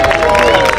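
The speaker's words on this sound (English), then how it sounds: "The loudest clapping and cheering's got the bragging rights" An arena crowd at Monmouth Carnival cheers and claps loudly for a competitor at the Quack Pack display, a dense roar of applause and whoops.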